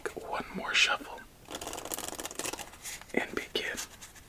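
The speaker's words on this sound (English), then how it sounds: "let's give this deck one more shuffle" A deck of Ribbon Edition playing cards is shuffled up close in a quiet ASMR solitaire setting, with crisp riffling and rustling bursts alongside soft whispering.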